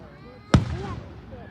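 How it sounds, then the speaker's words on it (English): A single sharp fireworks burst from a July 4 display goes off at moderate distance, cracking once and trailing off with a rumbling echo, amid faint background voices. "Destin, Mom, when are the fireworks gonna end? They've been going on for like 17 minutes."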